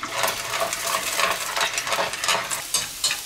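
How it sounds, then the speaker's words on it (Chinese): Eggs sizzle and are stirred in hot cooking oil in a wok, a steady close crackling fry with repeated scraping strokes of a spatula throughout, no voices. "炒锅加入食用油，炒几个鸡蛋"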